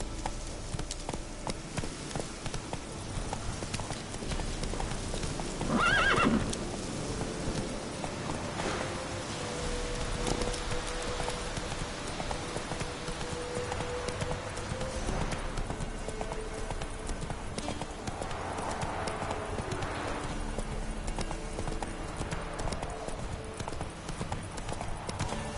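Roach the horse galloping in The Witcher 3: Wild Hunt, a steady rhythmic clip-clop of hooves running on without a break, fairly soft in the mix with faint ambient game sounds and a brief louder swell.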